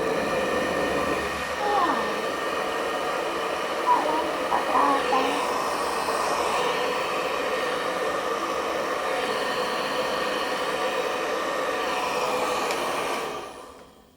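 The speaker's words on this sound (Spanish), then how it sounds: "Cojo el secador, lo enchufo, es normal eso." A hair dryer blows steadily and close for about thirteen seconds, a broad continuous whoosh that cuts off near the end, with a few brief faint knocks partway through.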